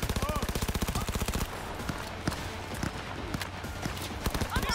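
Cyberpunk 2077 gameplay opens with a rapid automatic gunfire burst, then scattered single shots and impacts over a busy background rumble.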